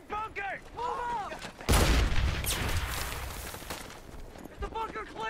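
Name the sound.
gunfire in The Pacific TV episode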